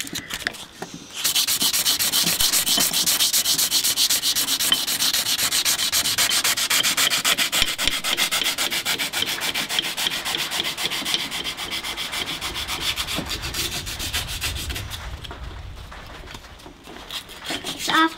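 Secateurs being rubbed clean with a sanding block or abrasive pad, close and loud rhythmic rasping strokes that run steadily for many seconds before easing off near the end.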